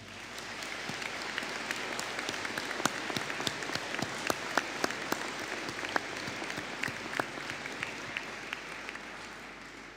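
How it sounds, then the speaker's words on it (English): Applause rises for graduating culinary arts students at a university business and hospitality graduation ceremony, a hall full of clapping with individual sharp claps standing out near the front, steady and fairly loud for the whole stretch. "Could invite the graduates of the Higher Certificate in Arts and Culinary Arts to stand for a round of applause"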